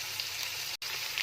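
Ginger and onion sizzle steadily in a pan for garlic chutney, a continuous close frying hiss with one brief break partway through.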